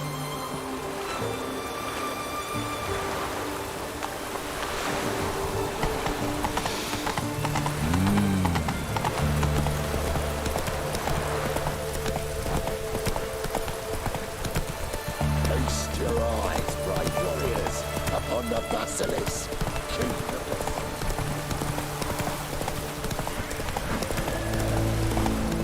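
Hooves of the horse Roach clip-clopping in The Witcher 3, a steady rhythmic trot close up over game ambience and music, with a brief neigh and a rider's voice speaking now and then.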